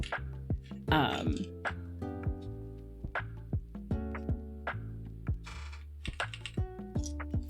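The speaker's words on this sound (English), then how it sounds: "It's nice when the keycaps don't sound bad." Key presses on a Sangeo60 mechanical keyboard fitted with new keycaps, sharp individual clacks in an uneven typing rhythm, close and fairly clear over a steady background with faint music.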